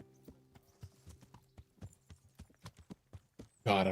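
Horse hooves clip-clop in Kingdom Come: Deliverance, a medieval game, about a dozen steady hoofbeats near and clear over a low hum, ending in a sudden loud burst of noise.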